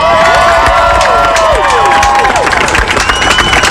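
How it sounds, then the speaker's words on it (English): At a Class 4A quarterfinal high school football game, a crowd claps and cheers steadily, loud and continuous, with whistles and shouts rising through the applause. "Let's give them a big round of applause"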